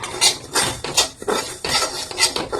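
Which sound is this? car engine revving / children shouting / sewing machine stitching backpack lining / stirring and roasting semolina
stirring and roasting semolina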